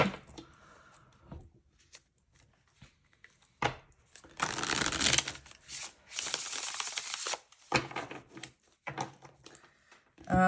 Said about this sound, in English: Let's get back to shuffling.